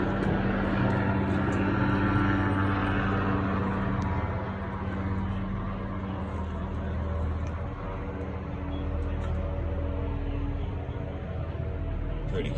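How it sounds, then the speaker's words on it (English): A police helicopter circles overhead, its steady low rotor and engine drone filling the background at moderate distance with no break. "Police helicopter flying around."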